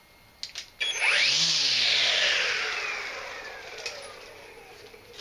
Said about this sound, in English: Works with the HT2410 hedge trimmer